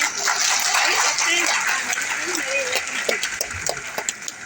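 Clapping from a seated audience at a Tamil hostel owners' gathering, the applause rising broad and steady and then thinning into scattered claps while someone talks over it.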